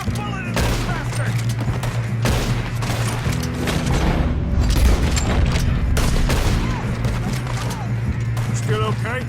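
Gunfire in the video game Red Dead Redemption 2, a loud running fusillade of overlapping shots and booms over a low musical drone, with voices shouting now and then through the shooting.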